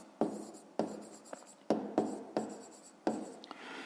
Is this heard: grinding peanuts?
no